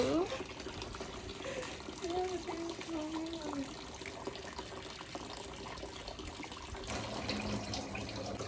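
Water runs from a tap over food being soaked for cooking in a home kitchen, making a soft, steady splashing trickle. Someone talks faintly in the background, along with some other low household noise.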